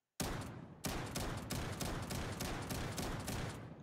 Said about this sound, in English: This is the shotgun. And you can make it automatic